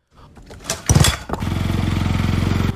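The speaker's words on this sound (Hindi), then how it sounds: "और फिर साहिल अपनी बाइक पर उसे बिठाकर उसकी मंजिल की ओर बढ़ चला।" A motorbike engine starts up and settles into a rapid, throbbing rev as a sound effect in a 2D horror animation. A few short knocks lead into a loud burst of ignition, then a steady pulsing engine note that cuts off abruptly.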